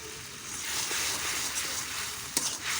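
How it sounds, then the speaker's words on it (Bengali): Spices with turmeric powder and salt fry in a pan for a fish-head and bottle gourd curry, giving a steady, close sizzle with soft stirring scrapes and one sharp utensil clack near the end. "এখন এগুলো সুন্দর করে ভেজে নিব।"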